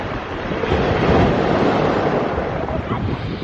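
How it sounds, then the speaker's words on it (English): Ocean waves breaking on the Pembrokeshire coast in South West Wales, a steady, close roar of surf with wind buffeting the microphone throughout. "Sound of them waves though are just so beautiful."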